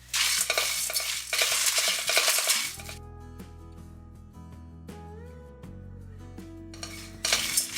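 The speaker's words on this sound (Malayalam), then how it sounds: "ഇത് നമുക്കൊന്ന് റോസ്റ്റ് ചെയ്തെടുക്കാം." Dried red chillies, black pepper, coriander seeds, cumin and fennel dry roasting in a pan for a chicken ghee roast masala, with steady stirring and rattling of seeds, denser scraping bursts at the start and end and quieter clinks in between.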